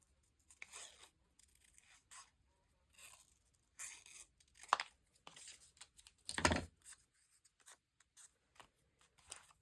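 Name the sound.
scissors trimming paper moth cutout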